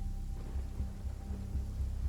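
Steady rain falling in the video game Genshin Impact, a continuous close hiss with a low rumbling undertone and no voices.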